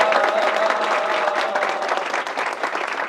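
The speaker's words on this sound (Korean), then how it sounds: "저는 특공대대라 그래서 박수가 좀 다를 줄 알았거든." Sustained applause from a special forces battalion audience at a lecture, a dense, steady roar of clapping that slowly thins toward the end, filling the room without talk.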